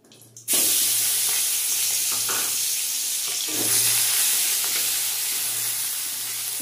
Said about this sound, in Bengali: চিংড়ি মাছটা একটু লাল করে ভেজে নেব।